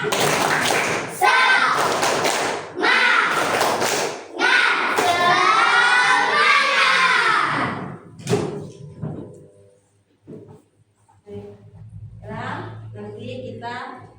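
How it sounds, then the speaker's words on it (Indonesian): A classroom of children clap in rhythm for a 'tepuk semangat' cheer, their loud, repeated claps mixed with chanting voices for several seconds, followed by quieter talk and scattered sounds. "Oke, tepuk semangat."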